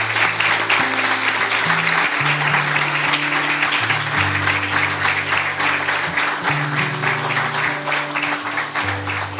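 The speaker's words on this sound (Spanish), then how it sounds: "Demos un aplauso al Señor." A church congregation applauds together in sustained, dense clapping that stays loud and steady throughout, with music or sustained low tones playing underneath.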